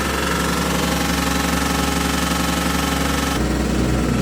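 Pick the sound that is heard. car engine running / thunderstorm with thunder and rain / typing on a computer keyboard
car engine running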